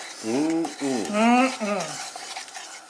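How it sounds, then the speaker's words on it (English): A spoon stirs boiling English toffee in a pot, making loud, close, squeaky scraping strokes in a few sweeping passes over a soft bubbling background. "But you have to continue to stir the entire time."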